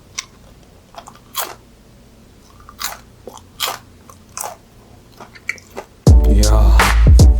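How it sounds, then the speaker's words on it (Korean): Several crisp, close-up bites and crunches into crispy confit potatoes served alongside French duck confit, sharp crackling bursts spaced a second or so apart, then a loud dense burst of noise at the end. "감자 많이 좋네요. 튀긴 것만큼 바삭해요."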